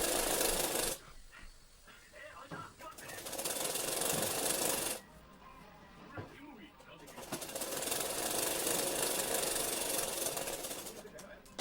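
A sewing machine stitches a readymade gown down a seam in two long, even whirring bursts, close and moderately quiet, with softer handling sounds in the pauses between them.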